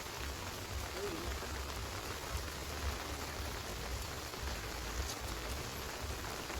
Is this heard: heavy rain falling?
yes